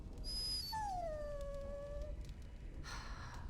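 A dog in the Dragon Age Origins video game lets out a long, drawn-out whimpering howl that slides downward, clear and alone over a steady game ambience, followed by a brief breathy rustle.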